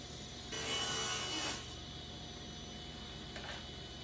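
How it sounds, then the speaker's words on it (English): Wood dividers for a tea box being cut to length, with one short burst of rasping sawing about a second long and a fainter, briefer scrape near the end against a quiet, humming workshop background. "Then I cut the dividers to length and ripped all the interior parts to their final width."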